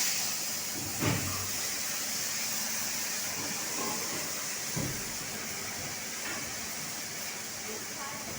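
Tamarind water poured into a pan of hilsa fish sizzles and hisses in a steady, continuous wash, with two brief louder splashes or pops near the start and middle.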